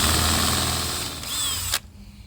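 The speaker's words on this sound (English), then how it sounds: "we're just going to drill this one out." A power drill fitted with a step bit bores out a hole in a U-Haul box truck, a loud steady whine that dips briefly and then cuts off abruptly.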